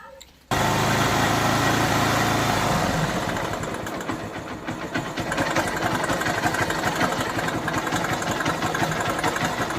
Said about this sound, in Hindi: एक बार हम गाड़ी चालू करके देखते हैं और मशीन से जो आवाज़ आती है